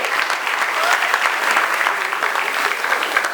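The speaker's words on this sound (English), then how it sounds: "that deserves a hand clap" An audience at a city ceremony in Alton, Illinois, honoring a state champion wrestler breaks into sustained applause, a close, continuous crackle of many hands clapping at an even level.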